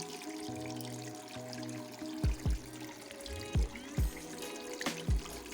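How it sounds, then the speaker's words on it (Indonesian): Water trickles and pours steadily down a paludarium waterfall cliff, its flow partly blocked by stones. It sounds soft and continuous, with a few brief low knocks and thumps over the running water. "Bagusnya, aliran air tetap mengalir tanpa menyembur keras."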